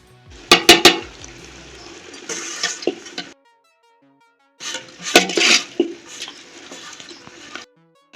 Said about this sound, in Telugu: మనం ఇంతకుముందు మ్యాగ్నేట్ చేసి పెట్టుకునే చికెన్ని కలిపి మిక్స్ చేసుకుందాం